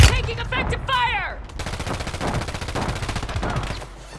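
Rapid automatic gunfire and explosions fill a military video game battle, loud and continuous, with a player's shouted voice over the shooting.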